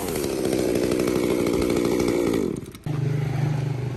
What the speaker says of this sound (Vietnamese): giới thiệu anh em một con cưa Makita M230T này, siêu nhỏ nhẹ của Nhật